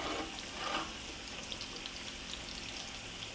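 Potatoes frying in a pot of a one-pot meal with sauerkraut and smoked sausage, a soft steady crackling hiss with a slightly louder burst early on, quiet and close, no talking.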